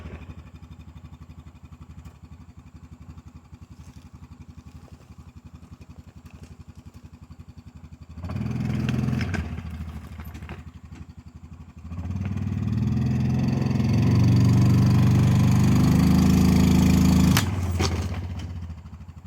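New ATV driven in four-wheel drive, a low idle ticking before the engine surges into a loud revving drone, drops back, then climbs again in a sustained strong pull before easing off near the end.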